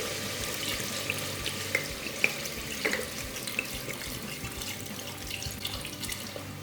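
Water pours steadily into a pot of fried beef for biryani, a continuous rushing splash with faint sizzling and small clinks, moderately quiet and with no talk.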